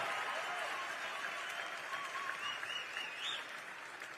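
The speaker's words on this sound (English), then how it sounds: "can we give our friends in law enforcement a round of applause for keeping this place" Crowd applause at a political rally, dense steady clapping from a large audience sustained throughout without letup.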